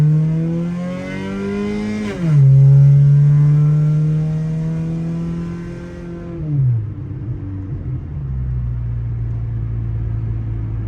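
A 1998 Honda Civic engine runs after a MAP sensor swap, revving up to a steady higher idle, then dropping back and settling into an even, low rumble, close and fairly loud with no talk.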